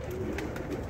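Pigeons just let out of their loft give low cooing murmurs over a dense, steady background hum, faint and continuous for a moment.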